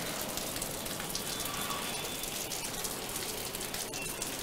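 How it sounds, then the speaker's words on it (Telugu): Heavy, unexpected rain pours down steadily in Telangana, a dense, even hiss of drops drumming on surfaces that holds constant throughout with no voices. "ఊహించని వర్షంతో ఒక్కసారిగా వాతావరణం చల్లబడ్డ పరిస్థితి"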